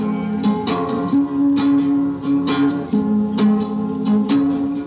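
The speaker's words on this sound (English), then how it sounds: "the stereo speakers are causing the guitar strings to vibrate and then feed that vibration back into the microphone" Guitar strings set vibrating by stereo speakers feed a steady, sustained low drone into a microphone, humming beneath a loud song with regular percussive hits.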